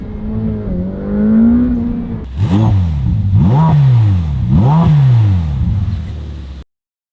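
A 2021 Ferrari F8 Tributo with a Fabspeed muffler-delete cross exhaust idles, then blips its engine in three sharp rising revs that fall back each time, loud and close with no talk, before cutting off abruptly.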